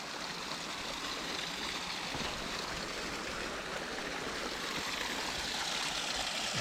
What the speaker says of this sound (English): There's little waterfalls everywhere.